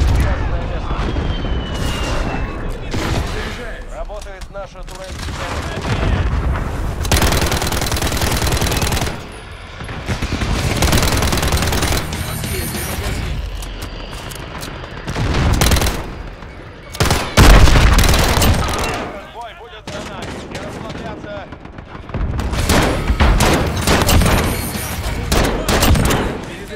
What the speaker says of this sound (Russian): Наша турель.